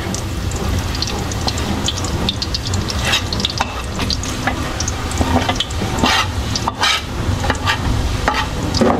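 Garlic and onion sautéing in a pan for chao fan fried rice, a steady close sizzle with scraping stirs and spatters throughout, no voices.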